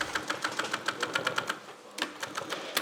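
An industrial sewing machine stitches a round seam on jeans in a rapid, even run of mechanical clatters, then stops briefly and starts again.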